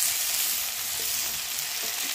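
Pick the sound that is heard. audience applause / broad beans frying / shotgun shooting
broad beans frying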